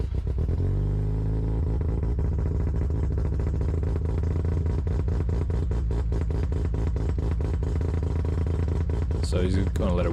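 Mazda RX-7 FD rotary engine with a full bridge port runs loud and close, a choppy, lumpy idle with a rapid uneven pulsing throb that holds steady throughout, a faint higher rattle entering near the end.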